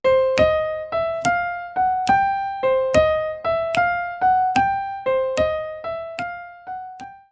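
A steady boogie-woogie piano figure in even eighth notes, a rolling bass-line pattern repeating clearly and alone, slowing slightly at the end.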